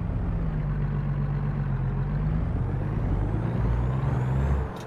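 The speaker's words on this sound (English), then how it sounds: "because of that slow revving engine, has a very slow build-up" A Scot A2HD vintage 10-ton truck in American Truck Simulator pulls away under load, its slow-revving engine giving a steady, heavy low drone that builds gradually and then drops off at the end.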